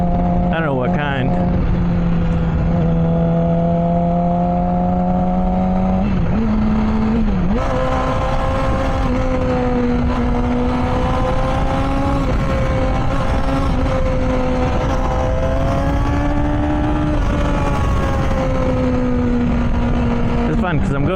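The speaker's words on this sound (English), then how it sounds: "More fun on the little motorcycle." A small motorcycle engine drones steadily at close range, its pitch shifting slightly as the rider changes speed, with wind noise throughout.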